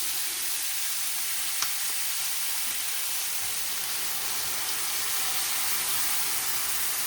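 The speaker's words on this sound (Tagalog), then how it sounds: "Lagyan natin ng toyo." Soy sauce hits a wok of stir-frying pancit bihon with yellow peppers, making a soft, steady sizzling hiss broken once by a brief clink.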